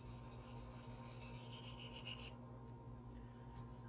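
Knife bevel drawn across a Gritomatic 1k silicon carbide sharpening stone, a steady close gritty rasping scrape for a little over two seconds that then stops, leaving quiet room tone.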